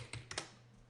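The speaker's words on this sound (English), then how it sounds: "you can hit return on the keyboard" A computer keyboard's return key is tapped during desktop editing software work: a few faint, sharp plastic clicks in quick succession, close by and alone.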